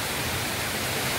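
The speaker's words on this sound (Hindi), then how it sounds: "पहाड़ से पानी डाउन की तरफ इधर आ रहा है और फिर ये नीचे जाएगा" Floodwater rushing down from a mountain through forest terrain, over stones and broken pillars: a dense, continuous roaring wash of water, steady and fairly close, with no voices.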